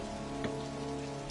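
Steady rain falls in the Heavy Rain video game, a dense continuous patter with a low tonal hum beneath it and two brief soft spikes, no talking.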